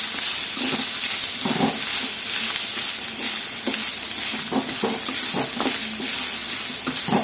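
Grated coconut and spices fry in a pan for soppu bassaru, crackling and hissing steadily. Repeated scraping strokes of stirring sound close up and fairly loud, with no talking.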